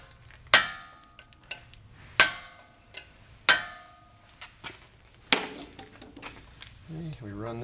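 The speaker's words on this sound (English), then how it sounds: "I find the hand impact works best, especially on the initial shot to break it loose." Hand impact driver struck with a hammer to break loose front brake bolts on a Range Rover Sport Supercharged: four loud, sharp metallic blows spaced about a second apart, with lighter taps and faint clinks between them.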